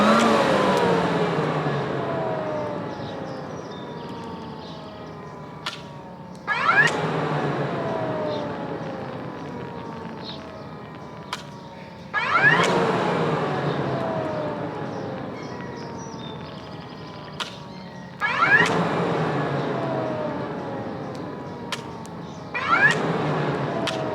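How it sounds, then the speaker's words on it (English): An engine in a home garage revved repeatedly, about four sharp surges, each winding back down slowly. Loud and close with no talking. "This thing does sound kind of cool when it revs up."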